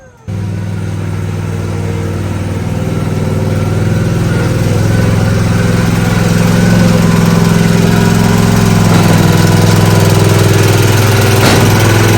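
A lawn mower engine runs loud and steady, a constant rumbling drone that barely changes.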